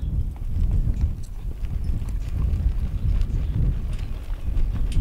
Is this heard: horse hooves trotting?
yes